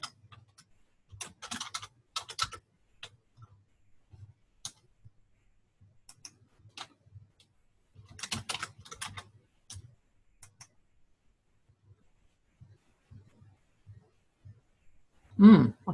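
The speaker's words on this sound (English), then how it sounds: "I've got to actually type this." Fingers typing on a computer keyboard in scattered bursts of clicking keystrokes, with short pauses between runs and one louder knock at the end, fairly close and with no talking.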